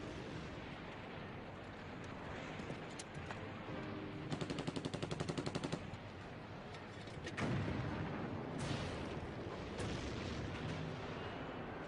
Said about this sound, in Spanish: Los australianos luchan fuertemente apoyados por los disparos de los tanques estadounidenses.